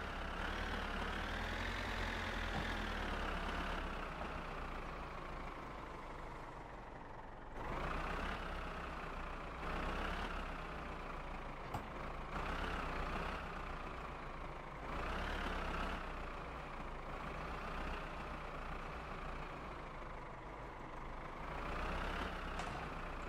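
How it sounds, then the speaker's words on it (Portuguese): Small tractor engine in My Summer Car running steadily, a droning, rumbling idle that rises and falls in pitch as it revs up and eases off several times, close and loud with no talk over it. "Ligar aqui o tratorzinho."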